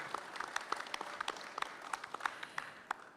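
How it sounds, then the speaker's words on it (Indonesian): An audience claps through an Indonesian government handover ceremony, and the scattered, moderately distant applause holds steady throughout. "Boleh berikan tepuk tangan yang paling meriah."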